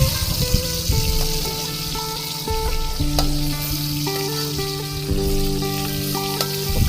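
Pekasam fermented river fish frying with chili and shallots, a loud steady sizzle with stirring scrapes, under a melodic tune playing throughout.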